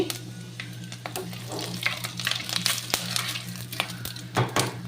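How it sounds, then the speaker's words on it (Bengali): Panch phoron and dry red chilies tempering in hot oil: a close, crackling sizzle with bursts of popping and a few scrapes against the pan, steady across the whole stretch, with no voices. "এবার আমি তেলের ওপরে একটু পাঁচফোড়ন আর শুকনো লঙ্কা ফোড়ন দিলাম"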